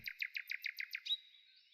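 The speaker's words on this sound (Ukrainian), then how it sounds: "Але навіть найгарніший куточок залишається сумним, якщо його не оживляє пташиний спів" A bird sings a quick series of about seven bright chirps, then a thin whistled note trailing off, clear and alone.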